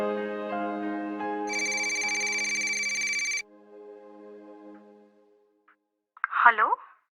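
A telephone rings with a bright electronic melodic ringtone for a few seconds before cutting off, then a quiet pause gives way to a short burst of a voice.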